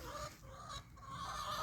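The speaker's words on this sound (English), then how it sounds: "Don't mind the chickens, y'all." Backyard chickens cluck softly in a home garden, faint and somewhat distant, under a low, steady outdoor background with no talking.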